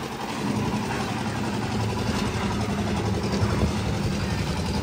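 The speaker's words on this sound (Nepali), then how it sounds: "सामान बोक्दैछ होला यो ट्र्याक्टरले चाहिँ।" A tractor engine runs steadily nearby in hilly tea-garden country, a continuous loud idling rumble and drone with no break and no voices.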